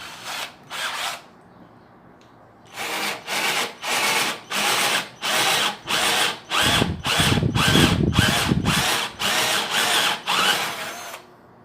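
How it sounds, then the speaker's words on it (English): A Lomvum 12-volt cordless drill bores into wood with a Forstner bit in repeated short bursts, each whirring grind lasting about half a second with brief pauses, plus one longer, heavier cut in the middle. "Now let's use this one, which is the Forstner bit."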